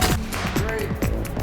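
Film special effects charges are fired in rapid sequence from an electronic firing box on a movie set, a quick string of sharp bangs packed into about a second and a half, with faint voices in the background.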